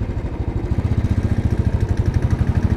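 A small, zippy motorcycle engine running while ridden through city streets, a steady fast low putter with rapid even pulses, loud and close, no voices.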